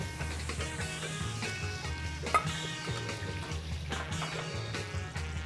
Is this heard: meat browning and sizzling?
yes